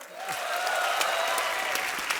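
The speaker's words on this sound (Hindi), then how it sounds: "जोरदार तालियां" Studio audience at a comedy talk show breaks into loud, sustained applause, a dense wash of clapping that stays steady and close throughout.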